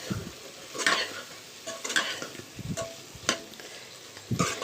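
A spoon stirs fried eggs sizzling in a pan for meal maker egg biryani, with scraping strokes and light clinks over a steady frying hiss, close and moderately quiet.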